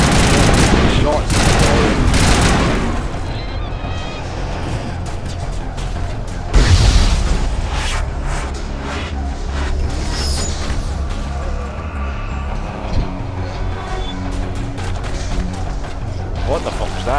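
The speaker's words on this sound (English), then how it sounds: "Shots." Gunfire in the video game Mass Effect Legendary Edition, rapid bursts of shots and booms loud at the start, then scattered shots and a heavy blast over a busy game soundscape while someone talks.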